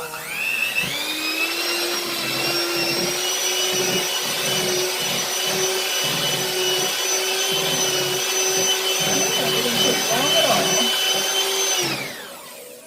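Electric stand mixer whipping butter and almond extract for a white almond cake, a steady loud motor whine with a constant hum that runs without a break for about eleven seconds, then winds down and stops, no talking.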